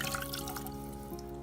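Water poured from a container into a pot of rinsed green beans, a steady close splashing and dripping trickle throughout without speech.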